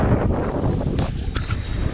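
Strong wind buffets the microphone on open water at Echo Bay, Nevada, a loud continuous rumbling roar with gusty surges, heard from a kayak amid whitecaps.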